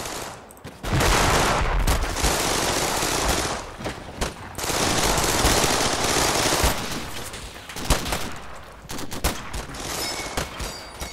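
Dense gunfire from a World War II battle in the Combat Mission Final Blitzkrieg strategy game, long bursts of machine-gun and rifle fire with overlapping volleys, loud and continuous with short lulls, and no talk.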